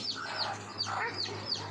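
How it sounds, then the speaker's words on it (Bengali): Hens and chicks cluck softly somewhere off in the distance, with faint, scattered peeping calls rising over a quiet background. "মুরগি বাচ্চা, সব মুরগি"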